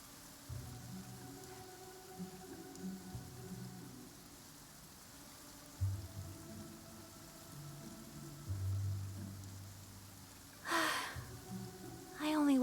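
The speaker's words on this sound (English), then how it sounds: "Let us find shelter from the rain." Soft, continuous rainfall ambience in the Enkanomiya area of the video game Genshin Impact, a steady hiss under sustained tonal game music with a brief breathy vocal sound near the end.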